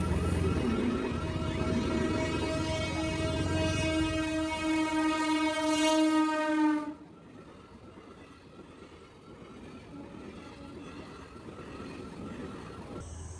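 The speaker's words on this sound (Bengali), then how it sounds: "দুধার দিয়ে দুটো ট্রেন যাচ্ছে" Two trains passing on either side at the Subhashgram railway level crossing: a loud sustained horn blast over heavy rolling rumble for about seven seconds, then the horn stops and the wheels keep clattering steadily close by.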